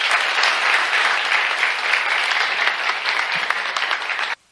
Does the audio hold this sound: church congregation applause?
yes